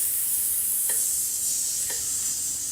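A steady hissing exhale through the lips during a French horn breathing warmup, a continuous airy sizzle lasting the whole stretch with two brief faint clicks, close and alone with no talk.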